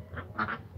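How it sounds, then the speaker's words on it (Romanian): Crested ducks give a few short, faint quacks, two or three nasal calls in quick succession heard at a distance against a low background rumble. "Rațele astea moță sunt cam spărioase ele așa de felul lor."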